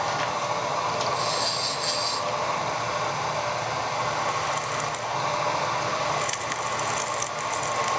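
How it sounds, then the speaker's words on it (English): A cobalt HSS drill bit bores a hole in severely hardened metal, giving a steady, loud grinding rumble broken by intermittent high, thin squeals as the bit bites. "We'll try drilling a hole in that."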